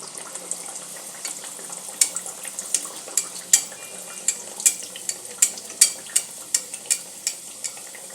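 Stuffed pea kachori frying in a pan of oil, a soft sizzling bed under a regular series of sharp crackles and bubbling pops, close by and without speech.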